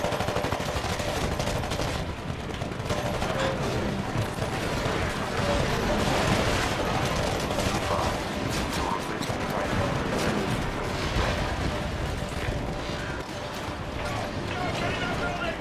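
Rapid gunfire and rocket blasts in the shooter Titanfall: a steady, dense barrage of automatic fire and explosions runs loud for the whole stretch, with a voice talking over it.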